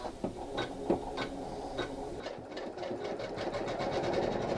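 An embroidery machine stitches with black thread in a steady, rapid mechanical ticking and whirring. It sounds close, moderately loud and continuous, with the rhythm shifting slightly partway through and no talking.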